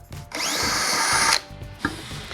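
A Bosch GSB 18V cordless drill runs in reverse to back a screw out of 6 mm steel, giving a loud, steady whine with a rising pitch for about a second, then stopping, followed by a short clack.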